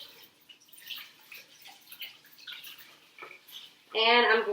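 A kitchen tap runs as a cookie scoop is wetted for scooping oatmeal cookie dough, the water starting suddenly and loudly near the end after a stretch of talking.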